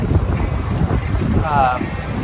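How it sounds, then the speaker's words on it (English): Strong wind gusting to almost 20 knots on a sailboat on a lake, a loud continuous buffeting roar across the microphone, with faint voice-like sounds mixed in. "the wind's really strong. It's gusting to almost 20."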